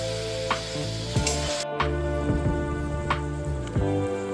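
Marinated chicken frying in hot oil for biryani, a steady close sizzle with occasional clinks and stirring scrapes of a pan, fairly quiet and without talk.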